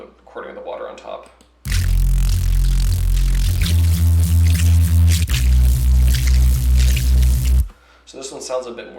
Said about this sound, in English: But when we put the recording of the water on top,